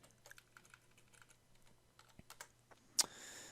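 Typing on a computer keyboard: a quiet, uneven run of close key clicks over a faint hum, ending in a sharper clack followed by a short hiss.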